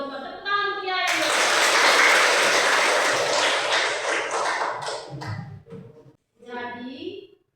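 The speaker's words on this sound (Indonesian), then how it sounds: "Tepuk tangan untuk Jaya" Students in a classroom applaud a classmate with a dense burst of clapping lasting several seconds, which then fades out as voices speak.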